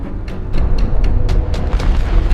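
A cob cannon blast hits a gargantuar and lights up a valley, heard as loud, deep booming rumble with repeated sharp cracks over roughly two seconds.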